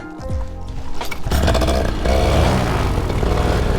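A slightly lean-running engine is run up, its rough mechanical drone building from a faint start into a loud, steady roar with uneven clattering pulses close by.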